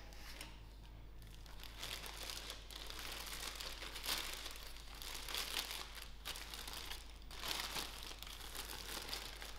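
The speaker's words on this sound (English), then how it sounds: "I'm going to put it into my plastic bag" A plastic bag crinkles and rustles continuously up close as brown flour roti dough is wrapped inside it, with steady crackling and a few louder crunches.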